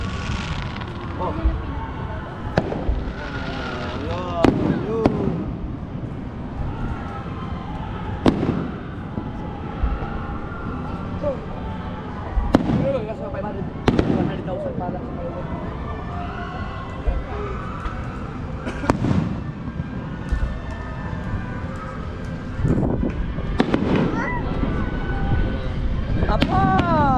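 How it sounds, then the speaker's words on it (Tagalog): Fireworks go off outdoors in sharp cracks and booms spread across a steady wash of noise, with people talking and reacting throughout. "JJ, fireworks"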